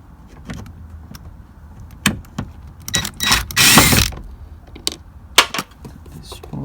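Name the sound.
ratchet removing a screw from Toyota Sienna door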